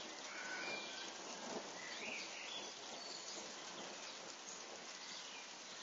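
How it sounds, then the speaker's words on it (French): Steady rain patters through a strong multicell thunderstorm at Tour-en-Sologne, with faint distant rumbles of thunder blended into the constant hiss of the downpour. "Ça tonne bien."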